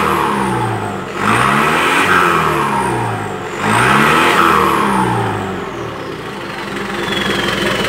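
A Hino Dutro 916 truck with a direct exhaust and a modified turbo revs twice in strong surges, a loud, raw engine roar topped by a high turbo whistle that falls away after each blip before settling back toward idle.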